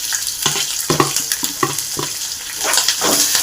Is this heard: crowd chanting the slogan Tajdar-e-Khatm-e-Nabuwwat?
no